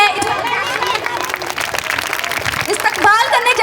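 A crowd at an Independence Day school event applauds loudly to welcome a guest, with dense clapping and chatter continuing for several seconds alongside a voice over a PA.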